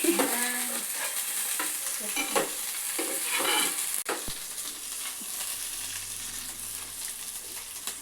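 Food sizzles and crackles in a hot pan while a utensil stirs and scrapes, steady frying throughout.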